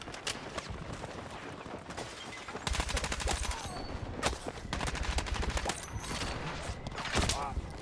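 Bursts of rapid gunfire in Battlefield 6 near rocks, with short rattling volleys and sharp single cracks mixed with game sounds, loud and close.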